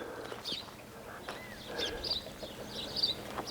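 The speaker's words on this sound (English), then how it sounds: "Then just birds in the trees." Birds chirp and sing in the trees on a rural property near San Luis Obispo, faint scattered calls and short tweets over quiet outdoor background.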